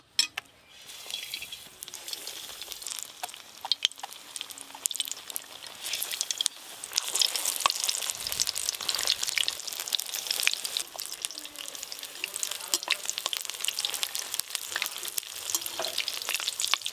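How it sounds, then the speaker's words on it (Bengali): Pumpkin flower fritters dipped in gram flour batter fry in hot oil, a steady crackling sizzle that runs throughout with scattered pops and soft stirring. "এই কুমড়ো ফুলের বড়াটা সব থেকে শেষে ভাজছি।"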